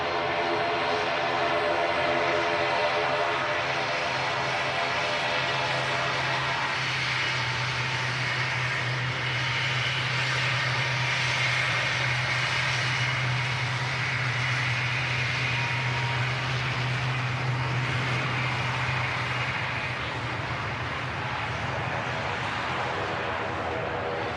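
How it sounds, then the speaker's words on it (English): An Aer Lingus ATR 72 turboprop taxis out at Manchester Airport, its steady engine drone and propeller hum holding loud and constant throughout, with a low tonal whine underneath. "Aer Lingus ATR 72 taxiing out."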